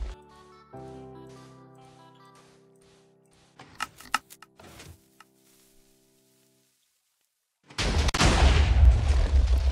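Cannon shots during a Minecraft cannon raid on an enemy faction: tonal game sounds, then several sharp cracks and clicks, and finally a loud, sustained roaring burst of explosions at the end.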